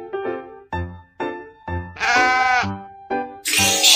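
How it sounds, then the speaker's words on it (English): Several sheep bleat in quick succession, close and loud, each call a wavering nasal cry, with a couple of longer, louder bleats near the end. "Sheep."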